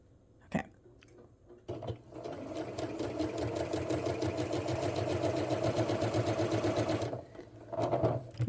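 A sewing machine stitching a temporary baste along the neckline of a V-neck sweater, a close steady mechanical whir of rapid needle strokes for about five seconds, framed by a few clicks and thumps before and after.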